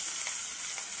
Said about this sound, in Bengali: তেল গরম হয়ে গেছে, দিয়ে দিলাম তেজপাতা, পেঁয়াজ, টমেটো